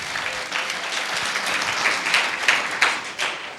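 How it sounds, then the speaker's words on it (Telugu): A church congregation claps loudly together during a Sunday service, a dense, sustained wash of many hands with a few sharper bursts rising near the end. "చప్పట్లు కొట్టి గట్టిగా దేవునికి స్తోత్రం చెప్దాం."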